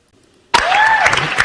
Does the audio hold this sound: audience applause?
yes